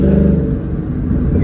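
A 2011 Ford Mustang GT engine revving, a short, loud, deep rumbling burst close by that tapers off slightly.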